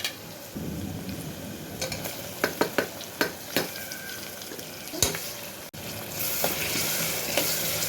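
Onion and tomato sizzle steadily in a pan for Maharashtrian masala rice made with Indrayani rice, with a series of sharp spoon scrapes and clinks against the pan over the continuous frying hiss.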